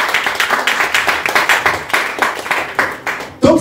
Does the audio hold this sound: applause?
yes